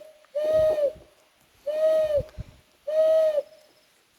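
A man imitates an owl call with his voice, giving three evenly spaced, hooting calls, each about half a second long, clear and close with quiet pauses between.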